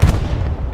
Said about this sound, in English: Big explosion from the artillery there